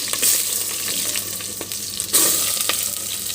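Onions sizzle vigorously in hot ghee with cinnamon and cloves for a mushroom biryani, a loud, close, continuous frying hiss with occasional pops and stirring scrapes.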